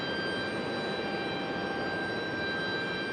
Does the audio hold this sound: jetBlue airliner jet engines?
yes